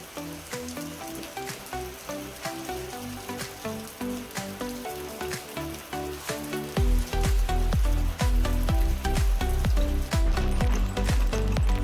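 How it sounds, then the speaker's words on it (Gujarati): Monsoon evening rain falling steadily, dense pattering drops striking surfaces nearby, growing heavier and louder partway through as a rumbling downpour sets in. "વરસાદ પણ ફરી પાછો ચાલુ થઈ ગયો છે"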